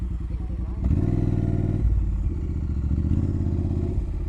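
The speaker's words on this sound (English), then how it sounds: "And you just hit let's go and start the bike up." A motorcycle engine starts and settles into a steady, loud idle close by, its rumble continuing through the clip.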